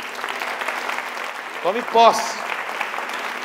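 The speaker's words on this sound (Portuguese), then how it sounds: "Dê um aplauso a Ele." A Portuguese-speaking church congregation applauds throughout, steady clapping that swells briefly as the preacher calls out a short phrase over it.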